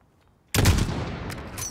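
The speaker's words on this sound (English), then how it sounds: "Fire when you're ready." A single loud rifle shot fired in Call of Duty: Modern Warfare, with a sharp attack out of near silence and a long echoing tail that fades slowly.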